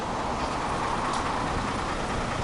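A jazz tram, number 1171 in Lviv, rolls along its rails with a steady, even rumble and hiss. The noise holds constant throughout, with no voices.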